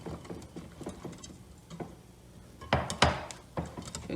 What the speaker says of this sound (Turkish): güzelce karıştıralım